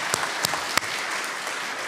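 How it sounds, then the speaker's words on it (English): Applause from a church audience at a book launch, fairly faint and short, a dense patter of clapping with a few sharper individual claps standing out. "Let's give them a big round of applause."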